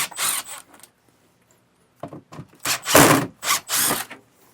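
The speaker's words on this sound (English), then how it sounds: "we can use a Phillips head bit, remove the 4 screws holding up our garnish ring here" A power driver with a Phillips bit backs out screws from the garnish ring of a Furrion Chill Cube RV air conditioner in a 2025 Keystone Cougar, heard as two bursts of close, buzzing whirs separated by a pause.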